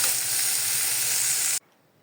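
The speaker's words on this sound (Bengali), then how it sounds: "এখানে আমি শাকটাকে তেলে দিয়ে দিয়েছি, পেঁয়াজ এবং রসুন দিয়ে তেলে দিয়ে দিয়েছি।" Leafy greens sizzle in hot oil with onion and garlic, a steady loud frying hiss that cuts off abruptly after about one and a half seconds, leaving near silence.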